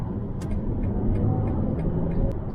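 A BMW iX1 M Sport accelerates on the road, heard from inside the cabin as a low, even rumble of tyres and road noise, with a few faint ticks and no engine roar.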